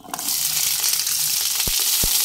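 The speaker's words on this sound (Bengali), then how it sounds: "2 মিনিট ফ্রাই করে নিয়েই উঠিয়ে নেব।" Diced onion and capsicum fry in a kadai over medium flame, giving a close, steady hissing sizzle with a couple of brief knocks from the stirring spoon near the end.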